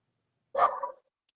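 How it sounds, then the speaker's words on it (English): An Australian Shepherd gives a single sharp, fairly high-pitched bark, close and clear against otherwise silent surroundings. "And there goes my dog again."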